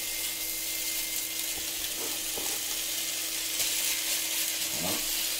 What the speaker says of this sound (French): On fait revenir les lardons.